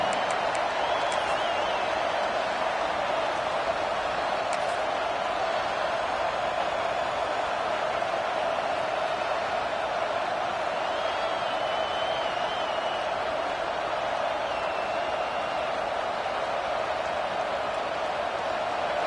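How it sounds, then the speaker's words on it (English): Stadium crowd in the College Football 26 video game, a dense, constant roar of cheering that holds steady and loud with no breaks. "This crowd ready to make its presence known"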